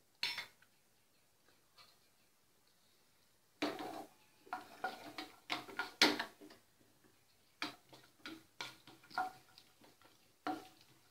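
Cashews frying in ghee in a pan, heard as scattered clinks and scraping of a spoon stirring against metal, in short irregular bursts with quiet gaps and only faint sizzle.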